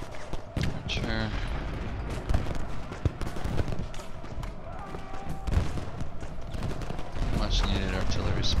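Cannon and artillery fire from the Civil War strategy game Ultimate General Gettysburg, a steady din of scattered booms and crackling volleys throughout, with speech-like sounds mixed in.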